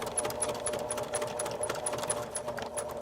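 A sewing machine stitches a fabric face mask close to the edge, its needle running in a quick, even mechanical patter of regular ticks that continues alone and fairly soft throughout.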